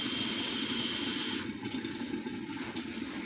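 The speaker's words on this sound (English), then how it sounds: "we're going to add our water, 1 cup of water in there" Water pours steadily from a cup into a cooking pot for about a second and a half, a bright splashing rush that then drops to a quieter trickle and settling sound, with no talking.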